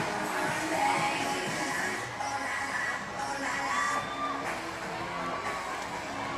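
Crowd at a Krewe of Okeanos Mardi Gras parade cheering and shouting in a steady, dense roar that carries on throughout, with whoops and occasional voices rising above the general din.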